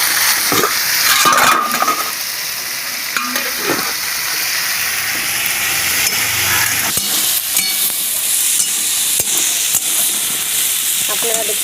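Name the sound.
stirring and frying ghugni with peas, shrimp and spices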